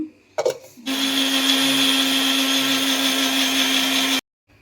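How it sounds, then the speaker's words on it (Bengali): A blender grinds ginger into paste for pulao, starting after a few brief knocks and running steadily for about three seconds as a loud, close, continuous motor whine before stopping abruptly. "এখানে আমি আদাটা এখন বাটবো, কারণ পোলাও করব সেই জন্য।"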